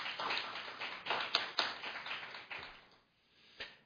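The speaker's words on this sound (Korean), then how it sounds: "발제해 주신 김창호 부회장님께 박수 한번 다시 한번 부탁드리겠습니다" Applause from an audience at a taekwondo industry forum follows a presentation. A dense wash of clapping swells and fades, dropping briefly before one last burst.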